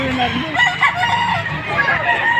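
A rooster crows loudly and close at a chicken market in Padre Garcia, Batangas, one drawn-out call with clucking fowl and a busy crowd behind it.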